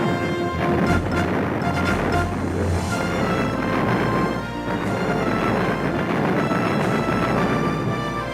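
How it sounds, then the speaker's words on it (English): American guns bombard the WWII island of Leyte, heavy booms and crashing blasts hitting repeatedly over a loud, continuous rumble. "For 24 hours, American guns bombard the island of Leyte."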